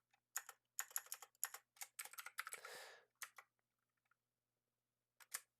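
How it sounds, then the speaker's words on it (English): Quick clusters of close, crisp keystrokes on a computer keyboard while writing C# code in Unity, coming in irregular bursts with short silent gaps and a longer pause before a final flurry. "I'm typing in so much of the same stuff"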